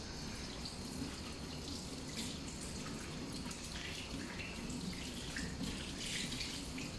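A bathroom or kitchen faucet runs steadily while hands are rinsed under it, a continuous close splashing hiss with no pauses and no talking.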